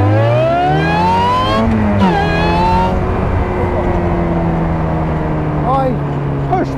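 A supercharged Ariel Atom 3.5 roars past with a loud, rising engine howl that sweeps in pitch as it accelerates by. The sound is close and sustained, and a voice is heard over it.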